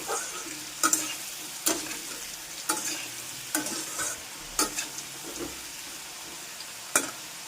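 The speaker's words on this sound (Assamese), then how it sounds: "আনফালে মোৰ এইখিনি ৰঙচুৱাকৈ ভাজা হৈ গ'ল।" Onions and spices fry steadily in a pan with a soft, continuous sizzle, broken by regular stirring scrapes roughly once a second, heard close and alone without any voices.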